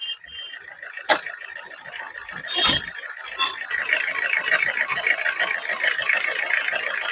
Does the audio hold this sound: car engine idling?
yes